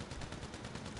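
Rapid gunfire from a Combat MG machine gun in GTA Online, a dense, continuous burst of shots filling the whole brief moment with no talking.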